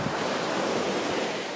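Sea waves wash onto a beach in a steady, full rush of surf with no break, loud and close, and no voices over it.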